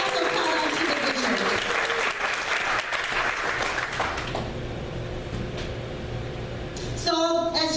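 Church audience giving a round of applause, dense clapping that thins and fades over several seconds, followed by a voice speaking.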